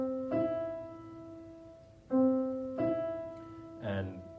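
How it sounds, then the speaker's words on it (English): Melodic notes on a sustained, keyboard-like instrument outline a major third interval, with two-note phrases repeated several times over a few seconds, clear and close with no talking. "So the major third sounds like this."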